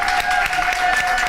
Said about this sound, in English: Can we give them a round of applause and send a word of encouragement and love?